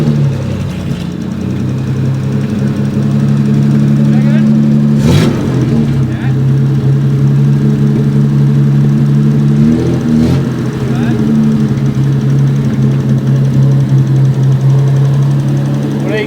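An old Jaguar car engine, rusty and left sitting for 8 years, runs with a steady low drone, rising briefly in a couple of revs, while people talk over it.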